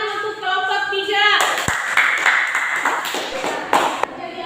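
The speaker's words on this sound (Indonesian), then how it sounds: "kita beri tepuk tangan untuk kelompok 3" Students in a classroom applaud a presenting group during a lesson on air pollution. A brief tonal chime opens the clip, then a steady wash of clapping follows, mixed with voices.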